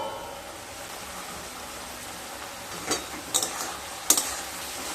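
Pumpkin greens with spices cook on low heat in a pan, giving a soft, steady hiss and gentle sizzle, with a few light clinks of stirring toward the end.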